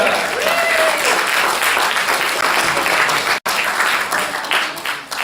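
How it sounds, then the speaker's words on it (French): A crowd applauds as a ventriloquist is welcomed to the stage at an evening show, sustained dense clapping with some voices mixed in and a brief dropout partway through. "On va applaudir Monsieur Julien Rouge"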